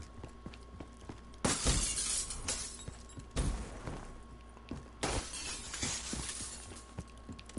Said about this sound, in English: Somebody's breaking glass over here